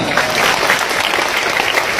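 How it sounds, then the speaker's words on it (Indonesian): A large audience at a gathering at an Islamic boarding school applauds, a dense, steady wash of many hands clapping at once, loud and continuous for the whole stretch. "tepuk tangan untuk Malaysia"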